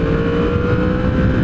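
A high-revving Yamaha R1 sport motorcycle engine holds a steady, loud roar close by, with no pauses or talk over it.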